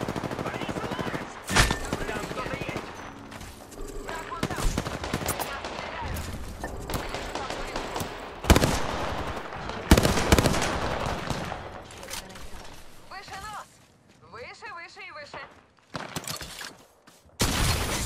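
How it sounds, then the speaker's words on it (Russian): Apex Legends gunfire from Pathfinder and nearby players comes as loud, rapid bursts and single shots mixed with mechanical clatter and in-game sounds. People talk excitedly throughout, and the firing is close and frequent. "Я стреляю!"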